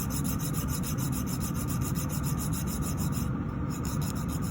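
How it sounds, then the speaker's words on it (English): A nail file rasps back and forth against a fingernail to square its shape, a close, steady scratchy rubbing with a quick even rhythm, and no voices. "if you put the file at 90 degree angle and you file until the corners touch"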